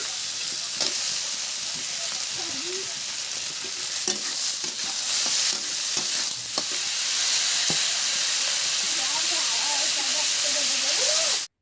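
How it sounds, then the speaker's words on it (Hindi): Onions frying in a pan in a home kitchen, a constant soft sizzle and hiss with occasional stirring scrapes, steady throughout. "प्याज को भी हम 2-3 मिनट के लिए उन सभी के साथ फ्राई करेंगे"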